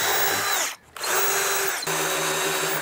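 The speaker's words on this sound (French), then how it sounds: "Je vais pouvoir visser une pièce de bois pour m'en servir de butée, c'est très rapide." A power drill drives a screw into a piece of wood to fix it as a stop on a work table. Loud, close whine runs steadily, breaks off briefly, then resumes with a shift in pitch partway through.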